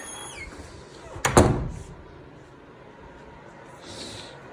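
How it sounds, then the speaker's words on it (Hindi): A door pushed shut indoors in a smoggy Delhi home: one sharp thud with a brief rattle, then a quiet room with faint background hiss. "दरवाजा बंद करना पड़ेगा।"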